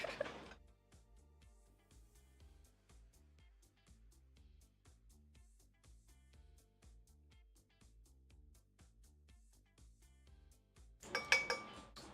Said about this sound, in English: we are loosening up our crusty crustiness here in the pan